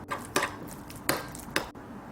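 Gochujang, chili flakes, minced garlic and soy sauce being mixed with a spoon in a bowl, a few sharp clinks and taps of the spoon against the bowl between soft squishing, close and fairly quiet, without speech.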